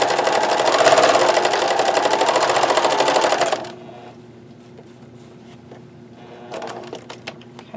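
A sewing machine runs fast while stitching a denim traveler's notebook cover, giving a loud, even, rapid clatter for several seconds before it stops, followed by quiet handling sounds.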